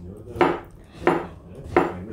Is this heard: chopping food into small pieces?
yes